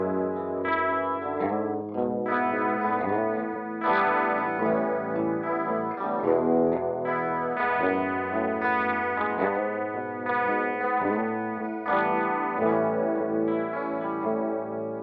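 Electric guitar riff played with a clean tone through a TC Electronic Alter Ego V2 delay pedal, sustained notes ringing with echoing repeats and a chorus-like shimmer, steady and loud throughout with no talking.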